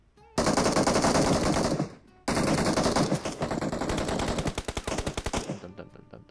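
Automatic gunfire in the PUBG battle game, long loud bursts of rapid shots with a brief break, then a stuttering run of separate shots that fades out.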